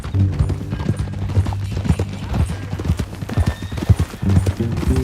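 Horse hooves clip-clop steadily in Red Dead Redemption 2, a rhythmic run of close, clear hoof strikes over a low background tone, with a few snorts and whinny-like sounds mixed in.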